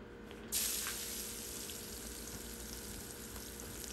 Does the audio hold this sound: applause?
no